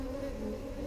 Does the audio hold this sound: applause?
no